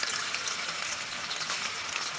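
Paneer pieces fry in white oil in a hot wok, giving a steady, dense sizzle that holds even and close for the whole stretch, with no voices over it.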